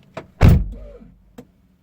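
An Infiniti G35 door shuts with a solid thump, and the power window motor gives a short whirring pulse to raise the glass the last bit, followed by a small click.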